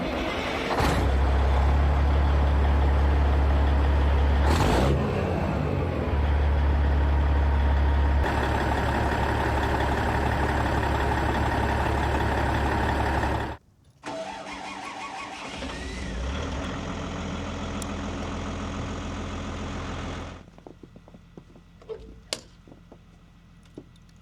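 Heavy truck engines start and idle loudly in a shop yard, a deep steady rumble that cuts off abruptly around midway before a second engine carries on, then drops away to scattered clanks near the end.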